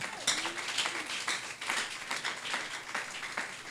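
A church congregation claps together in a soft, fairly distant burst of applause with irregular rhythm, lasting a few seconds.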